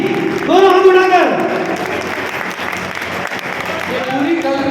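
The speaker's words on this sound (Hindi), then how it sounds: "जोरदार ताली, दोनों हाथ उठाकर।" Audience applause at a Fathers Day celebration held by a Jain community group, a burst of clapping that swells and continues steadily, with singing or a voice heard over it at the start and end.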